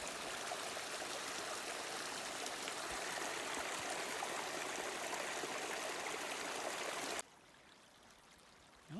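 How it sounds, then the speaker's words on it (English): Steady rushing of a spring mountain creek flowing on both sides of a trail, loud and continuous, then cutting off abruptly near the end. "The creek is on both sides of the trail."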